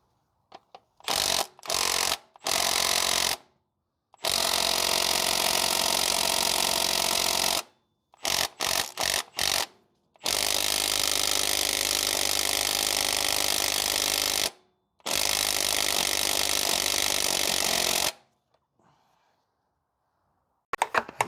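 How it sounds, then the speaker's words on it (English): A pneumatic impact wrench with a torque stick drives the crank pulley bolt on a 2009 Pontiac Vibe GT 2.4, loud buzzing bursts of varying length separated by short pauses, heard close with no talk. "I'm just going to be using my torque stick to torque the"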